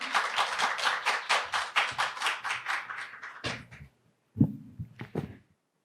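An audience claps to welcome a director to the podium at a research results presentation on COVID-19 fieldwork at Incheon social welfare centers. The close applause falls into a rhythmic beat, then stops, followed by a few thumps and a short voice.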